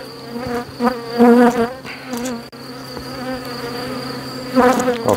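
Honeybees buzz steadily around an opened hive during an inspection of a swarm's egg-laying, a close, continuous drone with a few louder passes of individual bees near the microphone.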